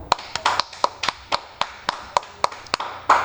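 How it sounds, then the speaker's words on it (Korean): A few people clap in a classroom, a sparse, irregular run of sharp individual claps, close and fairly clear against a quiet room. "박수."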